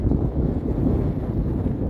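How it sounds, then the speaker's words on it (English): Strong wind roaring against the microphone on an Appalachian Trail mountain ridge between Erwin, Tennessee and Marion, Virginia, a dense low rumble that stays loud and steady without pause. "It really is windy up here"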